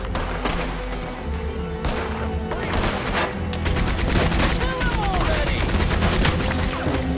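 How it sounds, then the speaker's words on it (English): A Gatling gun fires in Red Dead Redemption II, loud dense bursts of rapid gunfire with booming impacts throughout, and a voice talks briefly over the din. "Get on the Gatling gun now? I was on that Gatling gun."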